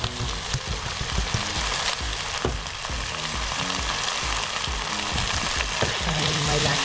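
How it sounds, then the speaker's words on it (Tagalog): Onions sauté in a hot pan on the way to translucent, a loud steady sizzle broken by the scrape and clatter of stirring, all close up with no talking. "Gawin lang natin translucent yung parang dito na ng konti yung sibuyas bago lagyan ng oyster sauce"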